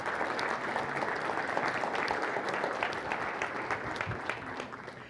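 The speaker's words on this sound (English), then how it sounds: "give yourselves a big round of applause" Sustained applause from a large audience at a cancer institute's annual address, even and continuous throughout with scattered sharp claps and faint voices beneath.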